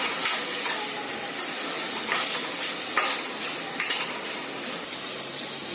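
Paneer cubes lightly frying in a little oil for palak paneer, a steady bright crackling sizzle with scattered pops and occasional scrapes of a spatula, close and continuous with no voices.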